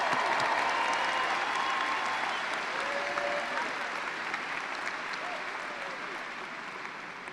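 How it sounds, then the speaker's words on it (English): At the Fairview High School class of 2023 graduation, a large audience breaks into full, dense applause that begins at its loudest and slowly tapers off over several seconds. "So can we give him a round of applause?"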